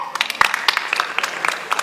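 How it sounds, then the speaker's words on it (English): Scattered audience clapping at a school English drama performance, individual sharp claps in an uneven rhythm rather than a dense roar, moderately loud and near. "One more big clap for women."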